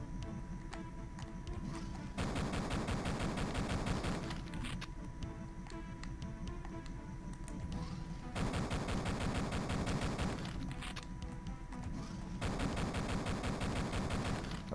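Gunfire in the video game Duke Nukem 3D, dense rapid repeated shots that come in loud bursts with quieter gaps of game sound between them, with no talking.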